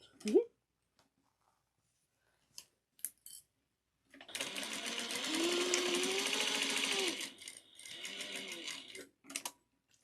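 A sewing machine backstitches over the seam of a zipper pouch, whirring in one sustained run and then a shorter second burst, with a few small clicks before and after.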